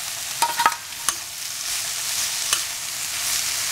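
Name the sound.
parotta added and stir-fried in pan for veg kothu parotta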